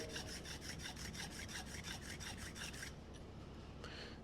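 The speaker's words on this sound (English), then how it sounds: "I'm going to run the edge of the scraper first on this 300 grit" Steel card scraper edge is rubbed back and forth on 300 grit sandpaper wrapped around a square cherry block: rapid, even gritty rasping strokes, close and continuous, easing off toward the end.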